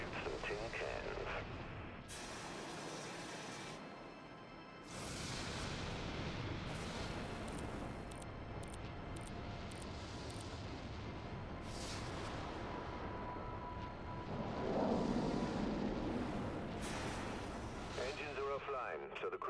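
Weapon fire from the Dreadnought video game, aimed at tin cans on a private shooting range, comes as a steady run of booming shots and blasts over a dense, continuous bed of game sound.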